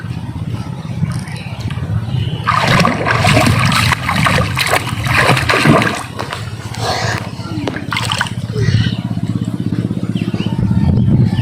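A child swimming in a pond sends up broadband splashes and churning water, loud and close, with voices mixed in.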